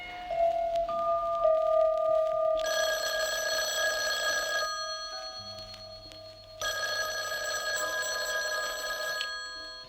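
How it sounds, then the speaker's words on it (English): An old telephone bell in an office rings in two long bursts separated by a pause, clear and moderately close with a quiet hum beneath. "The phone rang a couple of times."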